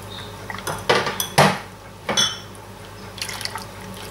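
A spoon scrapes and clinks against a pan while ube halaya is stirred with sugar, giving a few distinct metallic knocks and scrapes over a faint background hum, with no talk.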